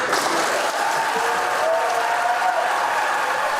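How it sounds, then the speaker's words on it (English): A standing ovation fills the US Senate chamber in Washington, D.C., after a Supreme Court nomination vote is confirmed, a continuous wash of applause from a large crowd in a big room with faint voices underneath. "A standing ovation and applause ringing out from the Senate chamber in Washington, D.C."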